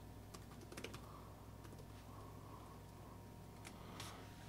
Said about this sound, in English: So we will type in the password